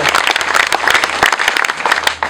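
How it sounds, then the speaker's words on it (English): A crowd at a Rotary Club dormitory and sanitation project handover applauds steadily, many hands clapping together in a dense, continuous patter that stays fairly loud and even throughout. "Maybe let us clap for that."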